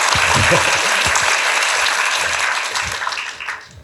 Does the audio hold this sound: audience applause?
yes